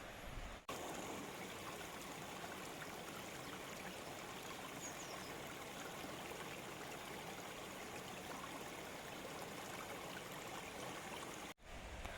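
A small river runs alongside a woodland campsite, giving a steady, continuous rushing and trickling of water throughout, close and even in level, with no voices.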